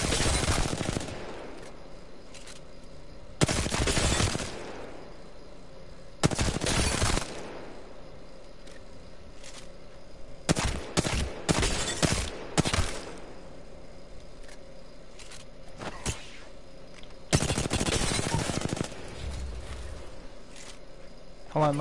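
Bursts of rapid gunfire from the video game Apex Legends, several loud volleys spaced through the stretch with brief single shots between, over a steady game background and with a player talking.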